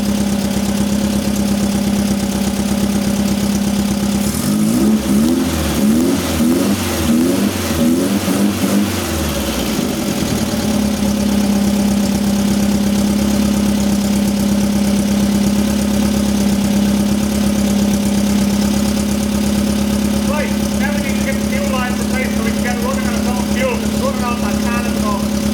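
A tuned 1974 VW Beetle air-cooled engine idles steadily, with a burst of revving in the middle before settling back to a smooth, even idle; faint background noise later.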